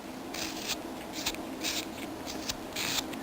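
Short scraping and shaving strokes come from trimming the back of a wooden light bulb ornament, a quiet series of close, rhythmic cuts with brief pauses between them.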